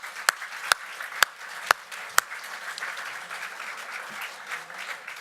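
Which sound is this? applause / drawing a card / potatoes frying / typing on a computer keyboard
applause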